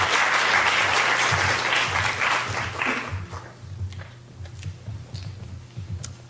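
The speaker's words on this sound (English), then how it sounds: "Let's give him a round of applause." Audience applause at a 2014 freedom-of-information forum, a full burst of clapping for about three seconds that thins into scattered claps and quiet room noise.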